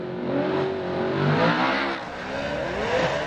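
A Formula Drift car slides on the handbrake at Road Atlanta, its engine revving and wavering in pitch amid tire noise, loud and sustained without talk.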